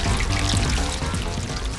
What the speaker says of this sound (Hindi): जैसे ही पाइप से पानी वापस समुद्र की ओर बहने लगता है